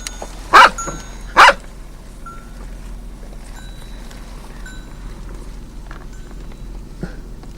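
Dog barking near goats in rural Italy near Monte Cassino, two loud sharp barks close by followed by quiet outdoor ambience with faint distant sounds.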